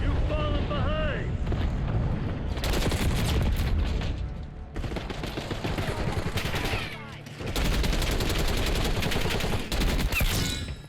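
AK-74 rifle fire in the Black Ops 6 shooter game, dense bursts of rapid shots in several volleys with short gaps between, loud and busy with other game effects layered in.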